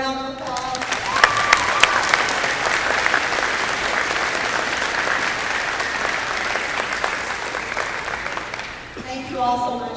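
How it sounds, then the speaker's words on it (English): Audience applause at the opening ceremonies of an FTC robotics state tournament in Missouri and Kansas, a dense, sustained round of clapping lasting nearly the whole time, with voices starting and ending around it. "Please give them a round of applause."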